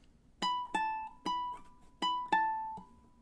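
Plucked ukulele notes in a fingerstyle pattern ring out close and clear, six bright picked notes grouped in two similar phrases, each letting its tone sustain before the next, with no talking.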